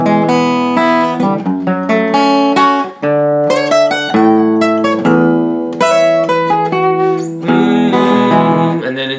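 Acoustic guitar picks out the intro of a song, mixing rhythm chords and lead lines in a bright, close, continuous run of plucked notes and strums.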